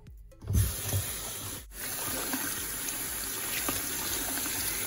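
Running tap water streams steadily while a makeup brush is rinsed, a close, constant hiss and trickle that starts with a brief splash and then holds even.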